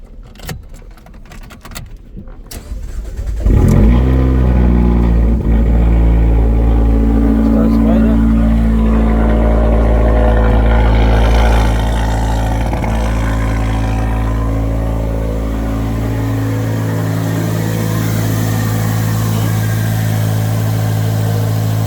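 A Fiat Abarth with a freshly painted downpipe cranks briefly, catches and fires into a loud, rough idle, then revs up and settles back to a steady idle close to the microphone.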